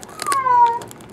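A nervous cat just let out of a box gives one clear, drawn-out meow, loud and close, with faint rustling around it.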